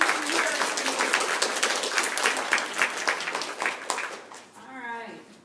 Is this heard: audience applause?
yes